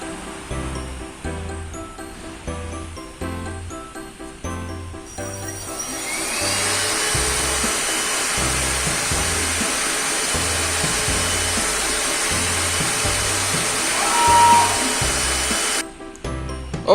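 Flatbed cutting machine, model 5035 Pro S Servo, switched on: a steady whirring fan or motor hum rises after a few seconds and runs evenly, with a rhythmic low pulsing underneath, close and fairly loud, then cuts off near the end.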